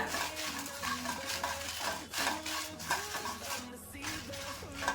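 Six or seven hot red chillies and four Byadagi chillies roast in a pan, stirred with a steady scraping and faint sizzle over soft background music.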